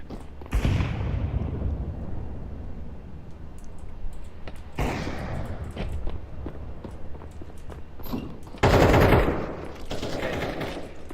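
Gunfire and grenade explosions in a shooter video game: loud rapid bursts of shots with heavy blasts near the start and again toward the end, dense and continuous, with no voices.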